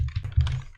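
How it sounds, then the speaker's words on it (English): Keys clatter on a computer keyboard while text is entered in a WordPress editor, a quick uneven run of close, clear keystrokes with no voice over them. "Let's just go and type some text."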